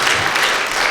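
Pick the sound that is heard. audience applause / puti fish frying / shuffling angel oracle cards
audience applause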